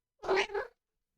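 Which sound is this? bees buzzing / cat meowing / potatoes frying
cat meowing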